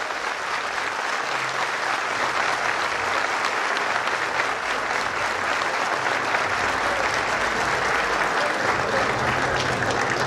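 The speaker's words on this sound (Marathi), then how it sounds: "नितीन कदम आणि त्यांच्या टीमसाठी आपण एकदा जोरदार टाळ्यांचा कडकडाट करूया" Dense, sustained audience applause for Nitin Kadam and his team fills the room, loud and steady for about ten seconds with a faint crowd murmur underneath.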